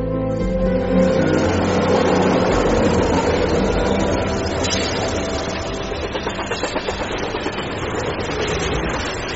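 A train running in a horror audio story, a loud continuous rumbling roar with a rhythmic clatter of wheels on the tracks emerging toward the end, with no talk.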